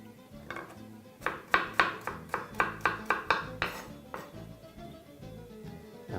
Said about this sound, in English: Just continue to chop all your slices very thinly.